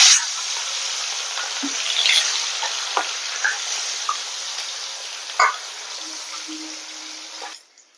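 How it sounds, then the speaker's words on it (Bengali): Pieces of bele fish fry in hot mustard oil with a steady, bright sizzle and a few sputters and pops, close by, fading out at the end. "তেল গরম হয়ে গেছে এবার অল্প অল্প দিয়ে দেবে মাছগুলোকে ভেজে নেবে"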